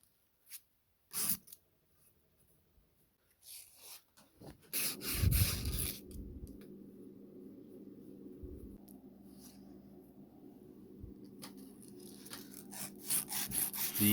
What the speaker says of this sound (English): I'm going to show you as I progress through the grits on one spot of the metal